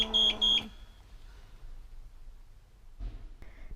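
Ventilator low pressure alarm sounding a close, loud tonal beep pattern of two quick pulses in the first half second, then quiet room noise and a few soft clicks and rustles, with no talking.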